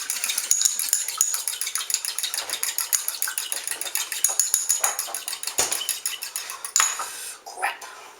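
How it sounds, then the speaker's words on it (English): Egg beaten briskly for an egg wash, a fork or whisk clattering in rapid rhythmic strokes against a bowl, close and steady, with a few louder knocks near the end. "Now we're going to do our egg wash. Simple egg, mix it up nicely."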